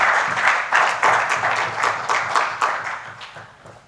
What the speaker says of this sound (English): another hand clap for Mr. Kayongo for the wonderful finance presentation